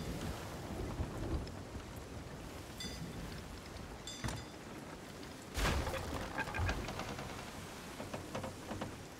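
A thunderstorm in the pirate game Sea of Thieves: steady rain and wind hiss beneath sharp, nearby cracks of thunder that rumble out, with no voices.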